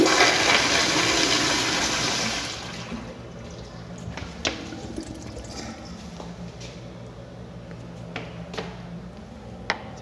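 An American Standard Madera toilet rated at 1.6 gallons per flush gives a loud rushing flush that fades after a few seconds into quieter refill trickling and gurgling, with a few sharp drips and clicks nearby.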